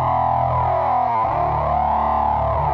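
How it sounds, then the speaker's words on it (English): A sustained, gritty bass guitar tone played through a Leslie rotating speaker swirls and warbles, loud and continuous from start to finish, in the style of Metallica's bass sound. "explaining Metallica bass tone. Leslie sound, which is"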